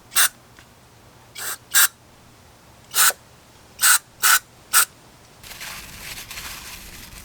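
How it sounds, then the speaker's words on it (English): Short bursts of throttle body cleaner sprayed onto the individual throttle bodies of a BMW E46 M3 during cleaning, six or seven sharp hisses spaced about a second apart, close and loud, then a steadier low rustle at the end. "I'll spray some more down, let it kind of remove some of the gunk."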